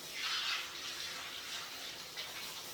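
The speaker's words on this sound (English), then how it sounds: "run them under some water" Tap water runs over peeled garlic cloves in a kitchen sink, a soft continuous splashing hiss with slight surges as the cloves are moved under the stream, fairly faint and with no talking.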